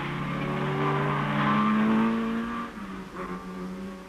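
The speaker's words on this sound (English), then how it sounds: "At the chicane, the leaders in the class, Alpine, Spitfire and Lotus, while this DKW enlivens the proceedings by sprinkling fuel on the corners" Small 1960s rally cars such as an Alpine, Triumph Spitfire, Lotus and DKW race through a chicane at the 1964 Tour de France Automobile, engines droning loudly, then easing off as revs drop.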